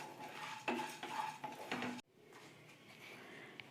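Lentils and curry leaves frying in a pan for karpooravalli rasam, with a spoon scraping and stirring against the metal in short bursts, then a soft sizzle after a pause, and a sharp clink at the very end.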